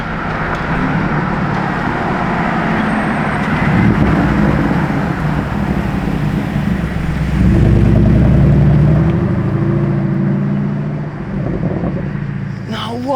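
A camouflaged Lamborghini prototype car drives past outdoors, a steady low engine and road rumble that swells around the middle and fades, with wind noise throughout.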